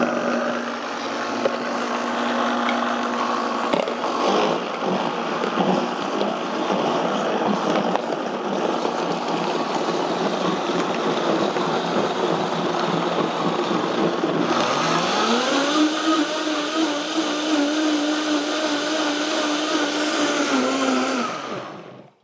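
A blender purees peach sorbet with lemon and a pinch of salt, a loud continuous motor whir running for about twenty seconds, rising sharply in pitch as it speeds up partway through, then cutting off.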